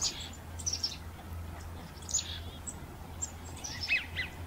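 Sandhill cranes at a migratory bird sanctuary in Delta, calling in scattered bright chirps and trills over a low steady hum, several short calls at a moderate distance.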